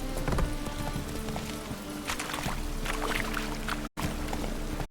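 Hooves of the horse Roach in The Witcher 3: Wild Hunt, a steady clip-clop gait close up over a busy bed of ambient game sound, with a brief dropout near the end.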